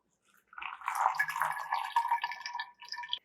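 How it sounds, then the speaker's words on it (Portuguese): Hot water poured over a paper coffee filter to scald it, a steady splashing trickle lasting about three seconds with a short break near the end, close and clear with no voices. "já vou escaldar o filtro de papel"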